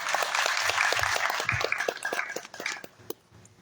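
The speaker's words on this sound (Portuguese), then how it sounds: "Uma salva de palmas, por gentileza." An indoor audience at an official ceremony in Duque de Caxias claps, a dense burst of applause that thins out over about three seconds into a few scattered claps.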